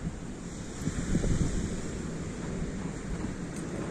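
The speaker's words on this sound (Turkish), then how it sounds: "Hava çok rüzgarlı ve soğuk." Strong, cold wind at the seaside buffets the microphone in a steady roar, with waves washing in the background and no voices.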